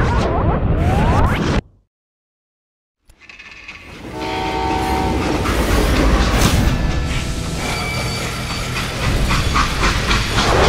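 A freight train in the Western video game Call of Juarez: Gunslinger rumbles loudly along the rails with a sounding horn, after a brief silent gap, with no talk.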